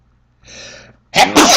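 A single close sneeze, loud and sharp, with a softer intake of breath just before it; a quiet room otherwise.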